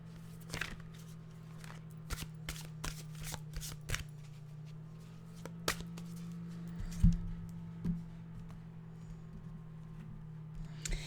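Tarot cards are shuffled in quick, crisp riffles and soft slaps, close and fairly quiet, with a steady low hum running underneath and no talking.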